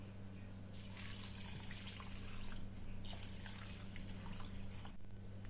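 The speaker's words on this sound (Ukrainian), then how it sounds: "Заливаємо рис півтора стакана холодної води." Cold water, about one and a half cups, pours onto rice seasoned with dried garlic and turmeric, a soft continuous splashing trickle of moderate level that stops abruptly near the end, over a steady low hum.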